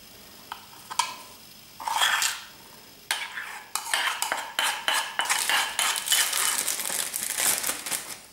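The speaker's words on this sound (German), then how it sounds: "Und dann kommt da die heiße Marmelade bzw." Hot jam or plum butter spooned into a piping bag set over a glass, with scraping clinks of a spoon, crinkling plastic and wet plops, close and fairly quiet, growing busier toward the end.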